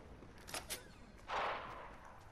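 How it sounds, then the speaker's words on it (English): Gunfire in a video game, with two quick cracks followed by a louder, longer burst, all fairly faint against a low background and with no talking. "There's so much gunfire going on."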